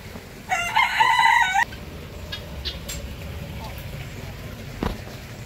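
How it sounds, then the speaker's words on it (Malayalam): Chickens and a rooster kept in a backyard pen at a home with pets: one loud rooster crow rings out clearly, followed by quieter clucking and outdoor background noise. "ഇത് നമ്മുടെ ചിക്കൻസിനെല്ലാം വെച്ചിട്ടുള്ളതാണ്. കോഴികളെല്ലാം ഇവിടെ നിന്ന് വളർത്തുന്നത്."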